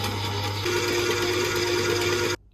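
Stand mixer whisks dairy-free butter and soft brown sugar for a cookie dough pie, a steady close motor whir with a high whine that shifts pitch partway through, then cuts off abruptly near the end.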